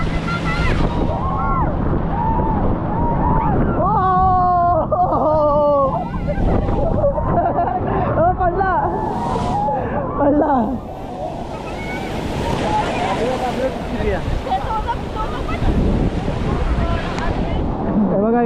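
A banana boat ride crosses the sea at Diveagar beach amid loud wind buffeting and crashing surf, while riders shout and scream with excitement and people talk nearby.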